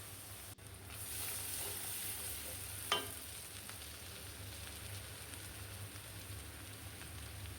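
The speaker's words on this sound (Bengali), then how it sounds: "এখন নেড়ে চেড়ে একসাথে ভেজে নিচ্ছি চিংড়ি মাছ আর পেঁয়াজকে" Prawns and chopped onion fry together in a pan, a soft, fairly faint continuous sizzle with one brief utensil clink, no voices.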